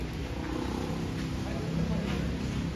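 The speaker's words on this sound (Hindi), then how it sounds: "अमेरिकन बिल्ली" An American cat purring close up, a steady low rumbling purr running throughout with faint background noise.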